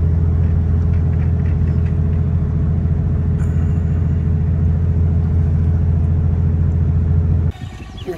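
A car cruises at 110 km/h, its engine and road noise a loud, steady low rumble with a constant hum that holds for most of the stretch, then drops away abruptly near the end.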